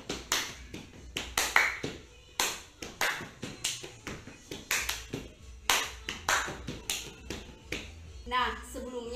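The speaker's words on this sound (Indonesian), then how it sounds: "saya akan memberikan satu jenis tepuk kreasi pramuka" Scout creative clapping routine: rhythmic patterned claps with snaps and taps, close and fairly quiet, repeating in short sequences, with a voice briefly at the end.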